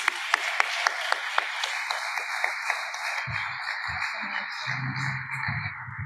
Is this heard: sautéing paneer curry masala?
no